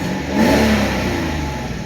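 A 1993 Mercedes 500E engine revs near 2000 RPM, a steady mid-pitched car drone that swells briefly and then holds at a fairly loud, even level.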